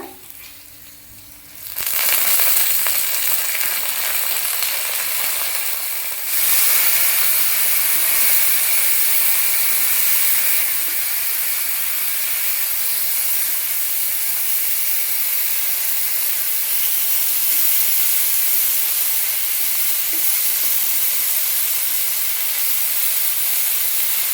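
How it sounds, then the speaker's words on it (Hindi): Khainga dried fish frying in a pan with onions, starting quiet before a sudden strong, steady hiss and sizzle that holds loud and even for the rest of the stretch, with no talking. "एबे इथिरे शुखुआ पकेइबा"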